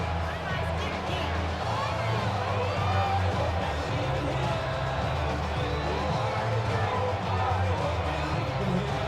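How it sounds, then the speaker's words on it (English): A stadium crowd in a Madden NFL 26 football game between the Dallas Cowboys and New England Patriots roars steadily throughout, a dense sustained cheer with scattered whoops, loud and continuous. "This crowd into it now as we get to third down"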